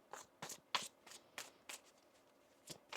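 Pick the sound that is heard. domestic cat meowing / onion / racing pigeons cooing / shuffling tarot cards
shuffling tarot cards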